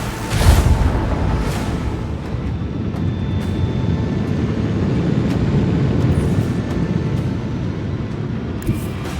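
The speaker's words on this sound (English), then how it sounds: "I want to hear the macro cannons roar!" Macro cannons firing aboard a starship in the video game Warhammer 40k: Rogue Trader, a loud booming blast up front that swells into a long, heavy rumbling roar, ending with a sharp crack near the close.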